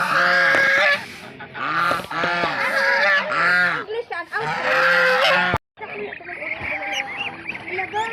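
Geese honk repeatedly in loud, harsh bursts close by on a rural farm, with chickens, ducks and a turkey calling and people talking in between.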